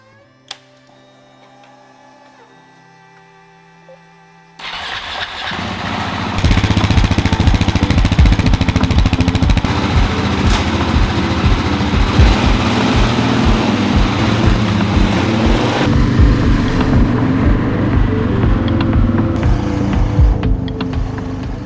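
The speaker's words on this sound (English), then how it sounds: "So keen to take the bike out for a test ride and just see how it all runs after I've put all this new gear on it." Husqvarna 701 adventure motorcycle, a single-cylinder engine that starts with a click and crank, then settles into a loud, steady, close running thrum that continues to the end.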